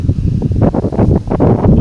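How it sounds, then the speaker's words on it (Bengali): Strong wind gusts across an open pond bank on a cold, rainy-season day, a steady rushing roar with surging swells throughout. "প্রবল বেগে বাতাস বইছে"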